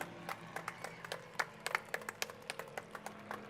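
Sparse, scattered clapping from onlookers at a Fourth of July parade, distinct individual claps at an irregular pace, moderately near, over a low background hum.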